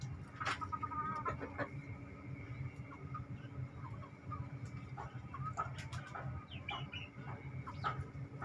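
Free-roaming chickens forage around and beneath their coop, clucking and calling in short bursts over steady farmyard background noise, with no voices.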